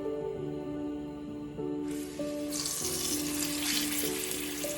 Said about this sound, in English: Now that's sizzling the way I want my chicken to sizzle.